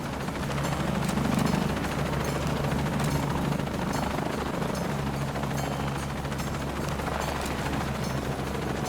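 Helicopter rotor thudding loudly and steadily in the video game Shadow of the Tomb Raider, a continuous low chop with mechanical clatter throughout.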